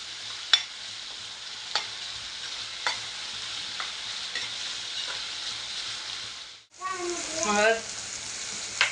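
Masala sautéed in a pan for a black-eyed pea curry makes a continuous close sizzle with light spoon knocks at intervals. The sound shifts near the end into a brighter, bubbling hiss.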